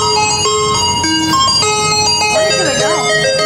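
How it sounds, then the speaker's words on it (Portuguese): Ice cream truck jingle playing loud and steady, a bright bell-like tune repeating its melody without pause; no speech over it. "É o caminhão de sorvete?"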